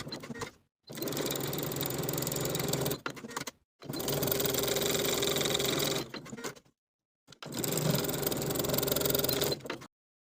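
A sewing machine stitches the side edges of a linen shirt cuff with a quarter-inch seam allowance, running in three steady whirring bursts separated by short silent pauses.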